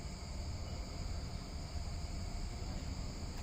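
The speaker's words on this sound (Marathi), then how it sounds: "फक्त रातकिड्यांचा आवाज येतोय." A night chorus of crickets, around 11 pm in a quiet setting, trills faintly and continuously above a soft, steady background hiss.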